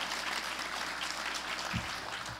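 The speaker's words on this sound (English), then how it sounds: "Everybody clapping, loud as you go." A crowd at a council inauguration meeting claps loudly on cue, a dense continuous wash of applause with a couple of low thumps near the end.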